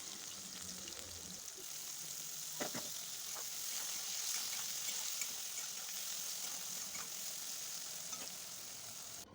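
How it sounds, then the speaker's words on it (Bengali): Cut eggplant fries in hot oil in a pan, a soft, steady hiss with a few faint scrapes of stirring, fairly quiet and uninterrupted, with no one talking. "বেগুনগুনিকেও খুব ভালো করে নাড়াচাড়া করে ভেজে নিতে হবে।"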